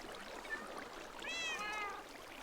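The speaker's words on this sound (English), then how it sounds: "Where did that cat go?" Cat meowing twice in quick, high, fairly clear calls with no other sound, the second one longer, over faint room background.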